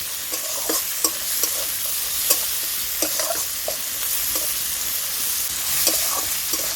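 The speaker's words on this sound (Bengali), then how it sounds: "সব কিছু ভালোভাবে নাড়তে থাকবো।" Raisins and turmeric powder frying in a pan while being stirred, a continuous hiss of sizzling oil broken by regular scraping strokes of the spoon, close and clear with no talking.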